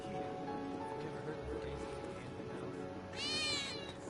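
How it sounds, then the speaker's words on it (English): In Final Fantasy VII Remake, a single in-game cat meow sounds near the end, short and fairly clear over steady game ambience with rain-like noise. "Oh, you goddamn cats."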